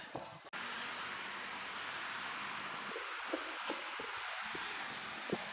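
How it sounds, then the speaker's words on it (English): Steady wind rushing over the microphone, a constant broad roar with a few soft buffeting thumps and no voices. "Very beautiful and very windy."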